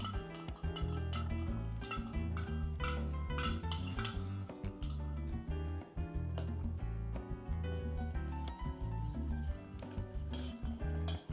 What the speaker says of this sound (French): Nous mélangeons là-dedans.